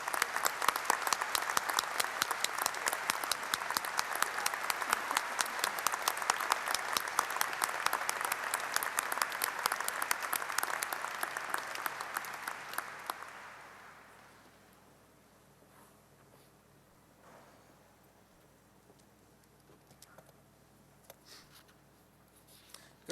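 Commencement audience applauding faculty and emeritus professors, dense sustained clapping for about thirteen seconds that fades out, leaving a quiet hall with a few scattered claps and rustles.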